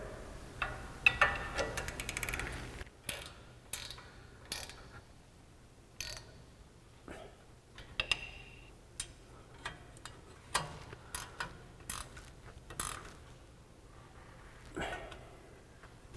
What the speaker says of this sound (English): We're going to take our 19mm ratchet wrench and tighten these down.